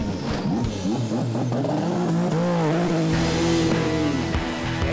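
Race car engines at the Mid-Ohio Sports Car Course fire up and rev, with loud rising and falling engine whines and a deep rumble of several cars together, close and continuous.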